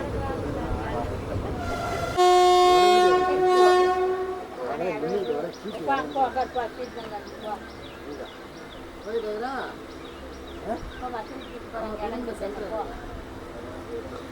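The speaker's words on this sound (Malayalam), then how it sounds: "അപ്പോൾ നമ്മുടെ ട്രെയിൻ ഇപ്പോൾ ഇവിടെ എത്തിയിരിക്കുകയാണ്" A train horn blares loudly for about two seconds as a train on the route to Nilambur Road, Kerala, arrives at a station, then rail and engine rumble continues as people talk over it.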